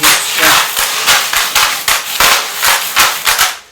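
Gravel tipped into a container as a drainage layer for growing grapes, heard as a run of sharp, rattling impacts in uneven bursts, fairly loud and close, with no talk over it.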